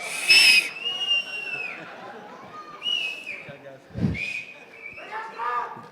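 An audience at a Telugu film pre-release event lets out shrill, piercing whistles in several bursts, mixed with crowd chatter and voices from the hall.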